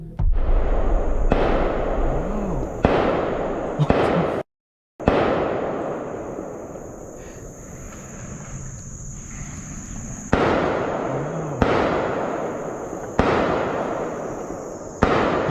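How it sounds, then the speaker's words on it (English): Sharp cracking gunshots during a hunt ring out one at a time at irregular intervals, each loud and echoing, with a steady high insect-like drone underneath. "the sudden crack of gunfire shattered the silence"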